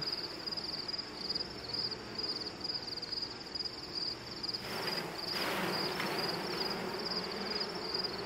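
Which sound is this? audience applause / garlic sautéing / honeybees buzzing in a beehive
honeybees buzzing in a beehive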